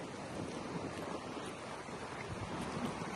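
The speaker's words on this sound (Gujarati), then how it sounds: "મોજા એવડા મોટા છે ને કે નજીક જતા ડર લાગે મને" Large sea waves rush against the shore by a seaside temple, making a steady, broad roar of surf mixed with wind that fills the whole stretch without a break.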